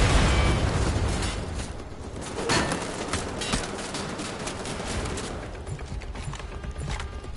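An explosion in the video game Wolfenstein: The Old Blood opens with a loud, dense roar that decays into scattered crackling bursts and rumbling game noise, with no talking.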